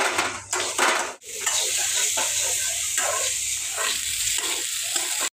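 Raw potato fries in a pan with a steady, close sizzling hiss, a low hum underneath and an occasional clink of utensils, and no talking.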